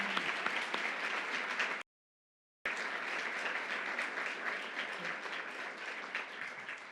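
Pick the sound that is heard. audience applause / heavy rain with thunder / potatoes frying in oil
audience applause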